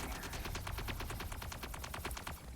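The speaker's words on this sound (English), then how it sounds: "now I'm starting to be shot at" Rapid gunfire hammers at a player's ship in the space game Starpoint Gemini 3, a dense, continuous stream of sharp shots in quick rhythm, loud and steady throughout.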